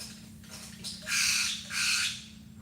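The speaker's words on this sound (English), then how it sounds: "It's one bird. It makes this variety of noises." Two raspy, drawn-out squawks from a single bird, close and moderately loud, preceded by a few softer rough calls over a faint steady hum.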